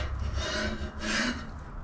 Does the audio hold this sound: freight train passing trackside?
no